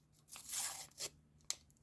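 Perforated paper surprise packet being torn open, a close, quiet rip that stretches through the first second, followed by a short second tear and a sharp final snap.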